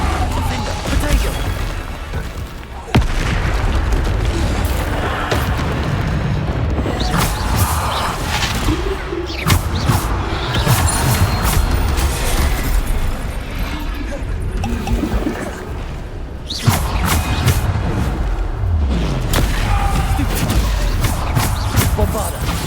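Bombarda explosion spells crash and burst repeatedly during a Hogwarts Legacy duel, with sharp smashing impacts cutting through heavy battle noise and frequent talking.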